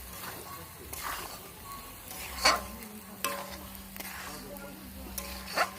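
Soybeans fry in a pan with cumin, green chilli, onion and garlic, a quiet sizzle broken by a few sharp scrapes of stirring, with a faint background hum.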